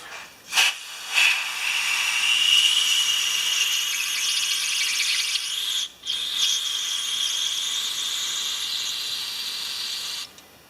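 Carburetor cleaner sprays from an aerosol can while filling a container holding a part from a Homelite pressure washer fuel system, heard as a loud, close, sustained hiss after a couple of short bursts, briefly interrupted midway.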